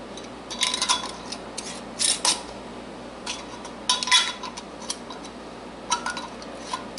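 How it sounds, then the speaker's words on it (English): Metal lids set onto glass canning jars of bread and butter pickles, giving several scattered clinks and scraping rattles at moderate volume, with no talking. "Now then, put the lids on."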